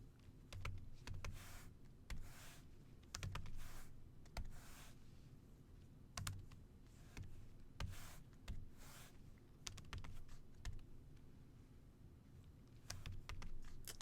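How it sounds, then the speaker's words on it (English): Numbers being typed on a computer keyboard, a steady run of quick, crisp key clicks in short bursts with brief pauses, close and clear with no talking. "I'm just typing in these numbers here"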